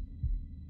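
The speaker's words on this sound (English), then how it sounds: "We'll time with the heartbeat." A single low, muffled heartbeat thump from the video game Little Hope, a deep throb against a quiet humming background.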